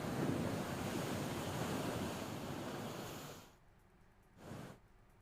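The Purna river, flooded after heavy monsoon rain, rushes in a loud, steady roar of churning water mixed with wind buffeting the microphone, then drops away to a quieter hush with one brief swell.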